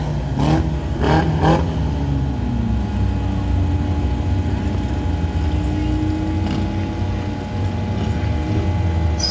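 Race cars from a four-division field roar steadily around a short speedway oval, a continuous engine drone with passing revs and a faint background announcer voice.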